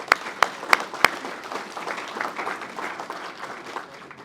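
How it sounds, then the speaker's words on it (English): Moderate applause from an audience at an Indiana Pacers press conference, opening with a few sharp, close individual claps and then settling into softer, scattered clapping that fades slightly. "I think they deserve a round of applause."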